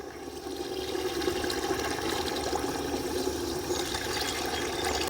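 Water pours steadily into a sprayer tank or container to dilute a pesticide for a field crop, a continuous splashing, gurgling flow that builds within the first half second and holds at a steady moderate level, with no voices.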